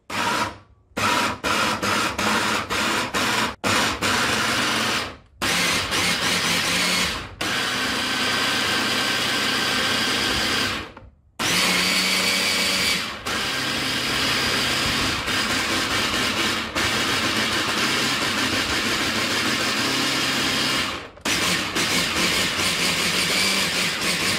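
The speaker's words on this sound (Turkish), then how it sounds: "Görmüş olduğunuz gibi narımızın güzelce robotta çekme işlemini gerçekleştirdik." Food processor grinding pomegranate seeds, a loud steady motor whir running in long bursts separated by several short stops and restarts, with no talking.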